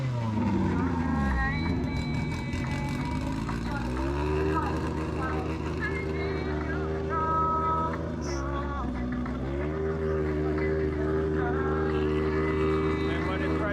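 Project X, an all-motor K-series drag car, makes a run at a Jamaican drag racing event, its engine wailing loudly and climbing in pitch through repeated gear changes, with a voice talking over it.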